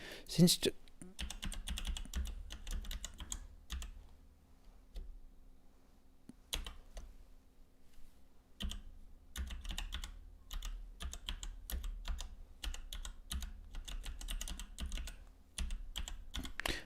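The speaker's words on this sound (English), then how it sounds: "No comment on keyboard noise." Clattering computer keyboard typing close to the microphone, bursts of rapid key clicks separated by short pauses, with a faint low hum underneath.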